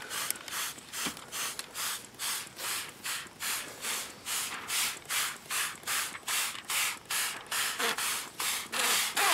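A trigger spray bottle squirts soapy water onto a car window during window tint installation, about twenty quick hissing bursts in a steady rhythm, close and fairly quiet, with no talking.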